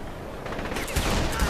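Rapid gunshots in Saints Row The Third, a short burst of close, loud cracks building over a noisy game background.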